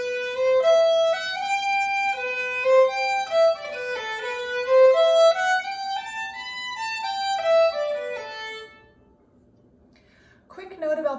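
A solo fiddle plays the B part of the slip jig "The Butterfly", lilting and fast-paced with clear bowed notes, ending abruptly, followed by a short silence and a brief noise.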